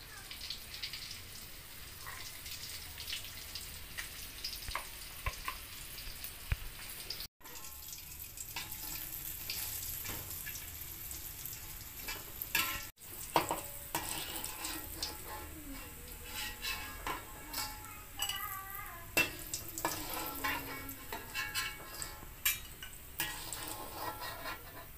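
Salted fish frying in a pan, a quiet continuous sizzle and crackle with occasional clinks and stirring noises, heard close up over about twenty-five seconds.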